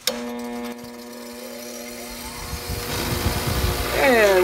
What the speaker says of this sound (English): Now that we're clamped, I'm going to grind this tip off over here on the grinder.